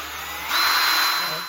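A power drill bores a hole in a spacer during a 1966 Mustang 7.25-inch rear differential rebuild, giving a steady high whine that swells louder partway through and holds, with no talk over it.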